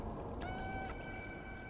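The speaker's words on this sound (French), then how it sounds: "On entend des bruits de chat." In the video game Stray, a cat down in the city sewers gives a couple of faint, thin meow-like cries over a low watery ambient hum.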